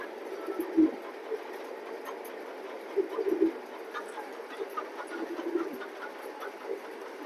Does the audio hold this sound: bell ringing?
no